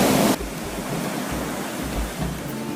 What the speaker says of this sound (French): La mer est trop rouleuse